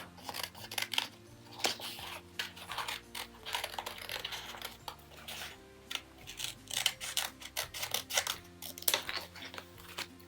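Scissors cut out a paper page in close, quiet detail, giving a string of crisp snips and papery rustles in an uneven rhythm over a faint background hum.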